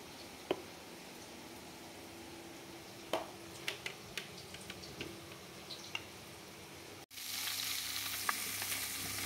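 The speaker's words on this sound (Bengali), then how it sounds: "এবারে আমি চচ্চড়ির জন্য ইলিশ মাছের মাথাগুলো ভেজে নিচ্ছি।" Hilsa fish heads frying in oil for a chachchari, a steady close crackling sizzle with scattered pops and spatula ticks, swelling into a louder, denser hiss near the end.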